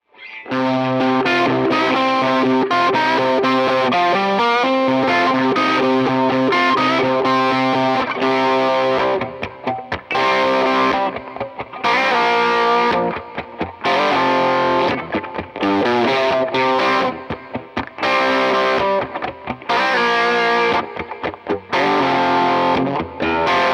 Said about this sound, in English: I'm going to be combining a little bit of the overdrive sound.